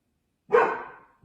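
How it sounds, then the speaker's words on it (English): A single dog bark starts after a short silence, loud and close, then trails off, with the onset of a second bark at the very end. "I apologize for my dog barking."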